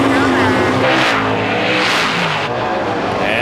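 Stock cars roar around the track at the 2009 Delaware 200, one car making a power move around the outside, with loud engines surging and passing up close while a voice talks over the din.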